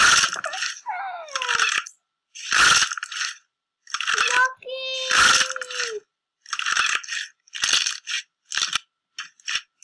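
Sharp crackling crunches and wet squelching pops come in bursts with short pauses between as crunchy slime is squeezed close up, with a brief murmur of a voice in places.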